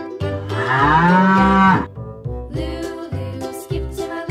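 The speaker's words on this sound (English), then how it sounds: "Cow." A cow gives one long, loud, close moo. Quieter, shorter sounds follow in a rhythmic pattern.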